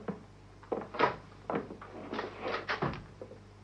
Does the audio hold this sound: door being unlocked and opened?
yes